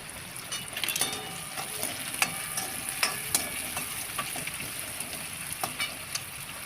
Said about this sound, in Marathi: कांदा व्यवस्थित तेलामध्ये परतून घ्यायचे